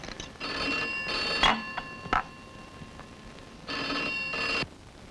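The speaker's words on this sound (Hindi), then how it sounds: "अरे भाई देखो किसका फोन है।" An old telephone bell rings in two bursts separated by a short gap, a bright metallic trill, with a couple of thumps or clicks in between and no talking.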